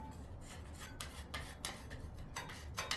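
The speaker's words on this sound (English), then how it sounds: "Once again, scrape any excess" A scraper drawn across excess drywall compound on a cornice join makes a series of rough, rasping strokes in irregular rhythm, close and moderately loud, with no talk.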